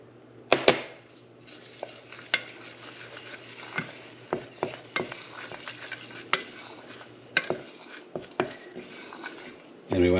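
Butter and flour being stirred together in a pan for a roux, giving a run of close scraping and clinking spoon-on-pan strokes over a low, steady sizzle, with no talking.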